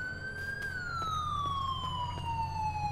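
A police car siren in the video game GTA 5 with the LSPDFR mod, a steady wail sliding slowly downward in pitch as it winds off, heard alone over a low engine hum.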